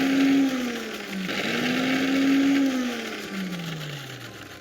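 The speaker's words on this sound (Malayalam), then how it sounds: "ലെഫ്റ്റ് സൈഡിലോട്ടുള്ള വിപ്പിലിട്ട് ഇത് പതുക്കെ ബ്ലെൻഡ് ചെയ്തെടുക്കുക." A mixer grinder on its whip setting blends homemade mayonnaise with a steady whirring motor hum that rises and dips in pitch as the load changes, loud and close with no talking.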